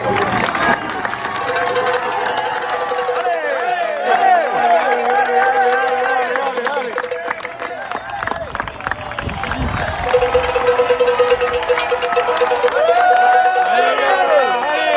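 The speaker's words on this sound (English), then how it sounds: "I want to play you a little bit of noise again from the crowd cheering the first group of riders on." A roadside crowd at the Tour de France cheers the first group of riders passing, a dense, sustained roar of shouting and clapping with bright horn-like tones and voices.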